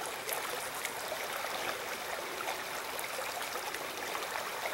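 A mountain stream flows as an Italian Greyhound crosses it, a constant close, bright rushing and trickling of water with no voices.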